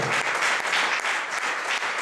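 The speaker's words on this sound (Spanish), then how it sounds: "Un aplauso fuerte." A church congregation claps during a sermon, producing a continuous, moderately loud patter of many hands with slight surges, no voices standing out.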